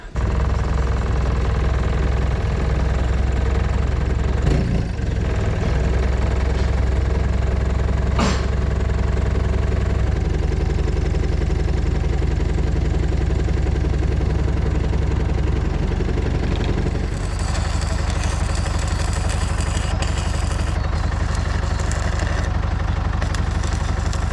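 A telehandler engine idles on a farm yard while lifting, a deep steady diesel rumble close by with a few sharp metallic knocks, the tone shifting partway through before settling again.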